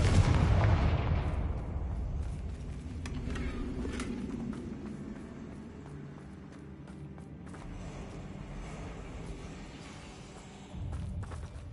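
The Confringo blasting spell from Hogwarts Legacy goes off with a loud booming burst at the start that decays into a rumbling tail, followed by a lower sustained rumble and scattered game sounds.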